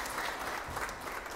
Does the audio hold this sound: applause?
yes